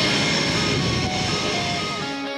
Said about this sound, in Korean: 전투기 이제 날아가려고 준비하나 보네.